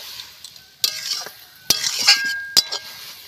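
A spoon scrapes and clinks against a pan as fried prawns are stirred into a Bengali taro-stem curry, with sharp metallic knocks spaced between soft sizzling and stirring sounds, up close.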